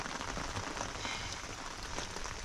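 Steady rain falls in a dense, continuous wash of hiss and patter, fairly close and even throughout, with no voices.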